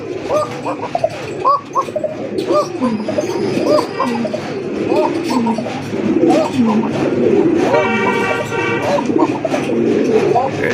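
Fancy pigeons for sale at a market coo repeatedly and overlap with one another, close and fairly loud, with people talking in the background.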